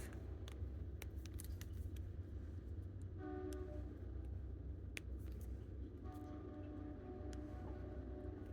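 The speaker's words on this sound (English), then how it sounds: "Sorry for the train noise." Low rail rumble fills the background while a train horn blows twice, each a sustained multi-tone blast of a few seconds, moderately distant.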